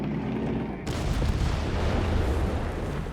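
Gunfire and artillery in the strategy video game Company of Heroes 3, a DAK versus USF match, heard as dense, rumbling booming bursts layered over a continuous battle din.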